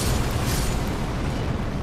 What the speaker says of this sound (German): Ihr dürft ruhig auch explodieren, wenn ihr wollt.